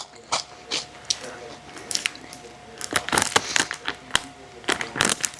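Sharp, crisp crunches from biting into a very thin, crunchy Japanese snack, irregular bites and chews close to the mic, with brief talking between them.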